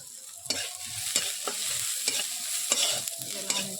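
Onions frying in a pan, a bright steady sizzle broken by several sharp knocks and scrapes of a spoon stirring against the metal, with no talk.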